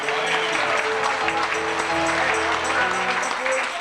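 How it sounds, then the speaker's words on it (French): A church congregation at an Assembly of God service in Vacoas, Mauritius, applauds steadily with dense, continuous clapping throughout, loud and close, with voices and music mixed underneath. "D'applaudir le Seigneur. Passez applaudis ça."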